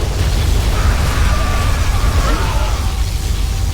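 Particle cannon blast from the GLA-faction Command & Conquer Generals Zero Hour, a sustained, roaring low rumble filling the whole stretch at steady loudness, with faint whining tones sweeping above it.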